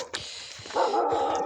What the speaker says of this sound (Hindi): ये बहुत समझदार कुत्ता है।